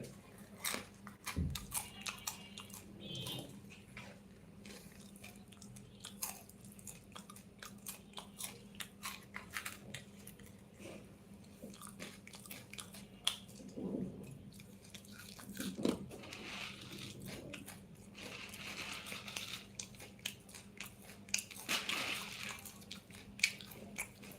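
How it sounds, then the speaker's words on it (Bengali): Crunchy puffed rice (muri) being chewed close to the mic, with soft, irregular crunches and bites repeating steadily over a quiet background and no talking. "অনেকক্ষণ লাইভ লাইভে এসে মুড়ি খাইতেছি"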